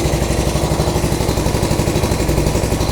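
A Honda CB200T motorcycle engine idles with a steady, rapid pulsing beat, loud and close, running evenly without any voices.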